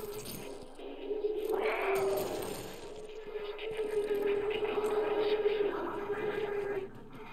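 A cat in the game Stray lets out a long, drawn-out wavering meow, close and steady over a low ambient hum, lasting several seconds without speech.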